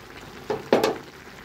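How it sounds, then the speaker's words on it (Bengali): A small-fish vegetable curry bubbles quietly in a pot, with two brief louder bursts of boiling and stirring rising out of a low simmer. "এখন দেখেন বলক উঠে পড়ছে।"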